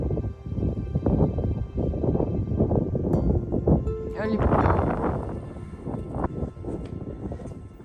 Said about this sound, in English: It is still very windy